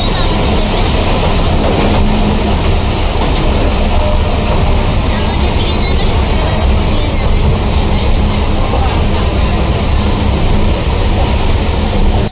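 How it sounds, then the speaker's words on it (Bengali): A Sealdah to Bongaon local train running at speed, a loud, steady roar and rattle of the carriages that persists throughout, with voices partly audible beneath it. "ট্রেনও নিজ গতিতে ছুটতে শুরু করলো।"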